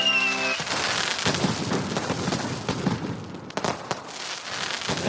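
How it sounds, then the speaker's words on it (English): Fireworks crackle and pop in a dense, continuous fusillade, with sharper louder bangs breaking through near the middle and end over a noisy, loud background. "Okay, fireworks."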